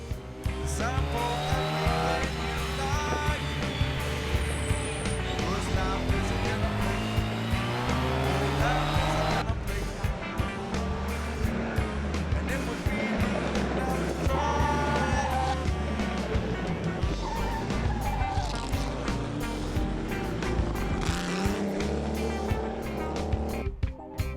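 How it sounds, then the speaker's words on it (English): A small old race car with old-type suspension drives hard around a festival circuit, its engine roaring continuously and close, with tyre squeal as it corners. "It's a wee car that doesn't mind the odd bump on a circuit"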